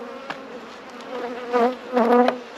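Honey bees buzz around an open hive while nucs are moved into full-size boxes, a close, steady drone that swells in two louder surges.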